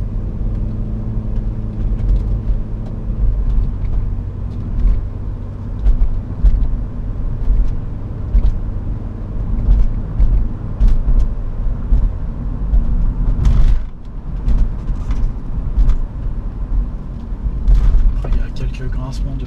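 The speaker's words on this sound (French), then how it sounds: "On a juste le petit bruit du moteur qui va bien." A 1998 BMW 323i E36 Touring with the M52 engine and automatic gearbox idles and runs quietly, heard from inside the cabin as a low steady hum under someone talking in French, with a brief louder rumble midway.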